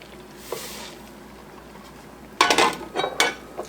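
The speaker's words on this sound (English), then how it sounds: "Stir that just a little bit with, this is a silicone spatula" A silicone spatula stirs sugar into melted butter, giving a few soft scraping, clinking strokes against the pan that are close and moderately loud after a quiet start.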